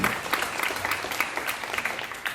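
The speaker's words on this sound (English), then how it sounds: "Big round of applause for Sophie on the trumpet" A jazz concert crowd at a small venue claps for Sophie's trumpet playing, steady applause with scattered sharp individual claps that holds at even loudness for a couple of seconds.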